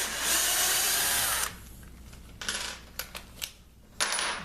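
A power drill countersinks a screw hole in a kitchen table, starting with a loud, steady whir for about a second and a half, then a few short, sharp bursts and clicks as the bit is eased back in.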